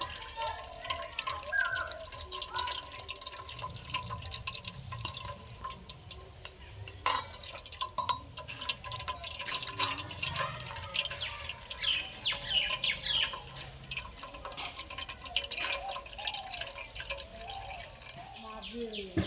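Water dripping and trickling out as soaked lentil paste is squeezed by hand: faint, irregular patter of drips throughout, with a voice talking at times.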